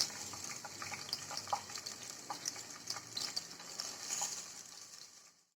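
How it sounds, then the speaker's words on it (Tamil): Chopped onions with green chillies for an Ambur-style chicken biryani sizzle in a pressure cooker pan, with a faint continuous hiss broken by light scraping and clinks of stirring. "வெங்காயம் நல்லா வதங்கணும், அதனால் நல்லா மிக்ஸ் பண்ணி விட்டுக்கோங்க"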